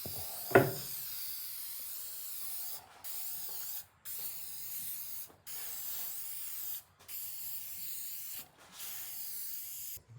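A spray can mists shellac onto a piece of furniture in long hissing bursts separated by short pauses, close and steady, after a sharp click at the start.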